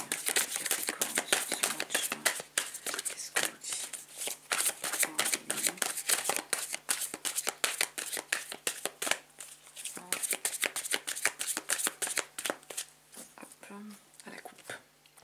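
Tarot cards are shuffled and cut in rapid, close, crisp riffling bursts that run almost continuously, while someone speaks quietly over them.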